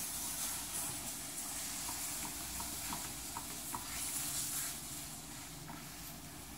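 Food is stirred in a pan with butter and chicken, a soft steady sizzle and hiss with faint scraping strokes, fairly quiet and continuous, no talking.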